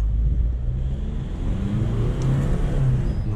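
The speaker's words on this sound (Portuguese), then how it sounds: "Meio que dá pra escutar o turbo enchendo" Pickup truck accelerating with its turbo spooling up, a steady loud low engine rumble with rising drone and a faint high whistle, no talking over it.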